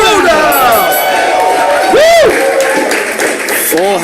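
A studio audience at a Schmoedown trivia competition claps and cheers loudly and continuously, with whistles and shouts rising above the steady wall of applause.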